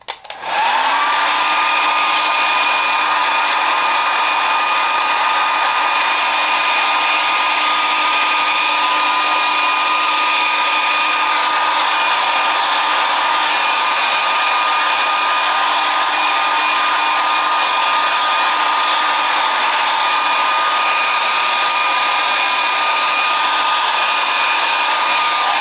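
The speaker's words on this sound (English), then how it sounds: "Blow dry the hair up." A hair dryer blow-drying a hair system, switching on at once and then holding a loud, steady whooshing whine with a constant tone for the whole stretch and no talking.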